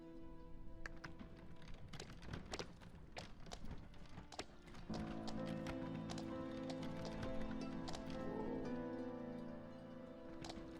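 Horse hooves clip-clop steadily in the video game Nightsoil, a regular rhythmic patter set against a continuous musical or ambient bed that grows fuller halfway through.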